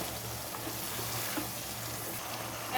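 Small chicken pieces frying in oil in a pot for bhuna khichuri, a continuous close sizzle with light stirring scrapes, steady and moderately loud, no talk.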